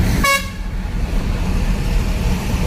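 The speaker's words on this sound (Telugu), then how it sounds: "హారన్ కూడా కొట్టిన." A goods truck's horn gives one short loud toot at the start, then the steady drone of road traffic carries on beneath it.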